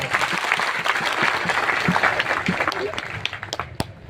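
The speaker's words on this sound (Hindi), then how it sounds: "एक बार जोरदार तालियां।" A crowd applauds at a Gondwana Gantantra Party memorandum gathering in Jabalpur, a dense, steady clatter of many hands that carries on for several seconds, with voices mixed in.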